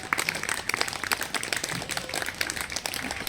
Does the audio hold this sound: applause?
yes